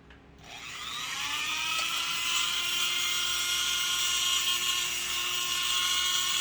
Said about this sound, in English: I'm just gonna eat that thing up with the drill